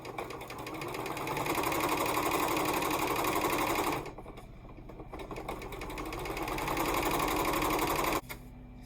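A sewing machine stitches a quilt row together in a close, rapid mechanical whir that runs for several seconds, pauses briefly, then resumes before stopping abruptly.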